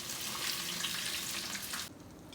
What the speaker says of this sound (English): so now our crappies are done frying